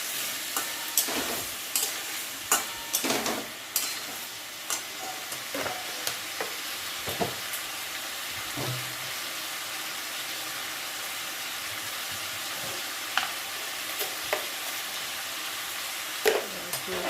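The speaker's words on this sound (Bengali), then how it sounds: "ব্রকলি আর আলুটা দুটো একসঙ্গেই কষাবো।" Broccoli and pre-fried potato pieces being stir-fried together in a pan, giving a steady low sizzle broken by scattered scraping and clacking of the spatula, close and fairly quiet, with no talking.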